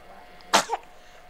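One sharp sneeze bursts out close by, a quick intake followed by an explosive release, against a quiet room.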